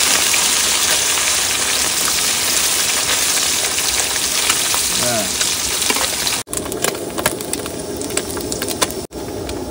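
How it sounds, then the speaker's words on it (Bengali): Khoira fish fry loudly in oil in a pan, a dense, continuous close sizzle with crackling spatters throughout, briefly interrupted by short breaks near the end. "এবার খয়রা মাছ ভেজে নেবো।"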